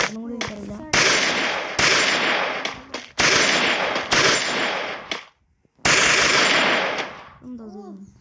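Bursts of rapid automatic gunfire from guns in the video game Free Fire come loud and close in several long volleys, separated by short gaps and one brief pause, while someone speaks in short moments between bursts.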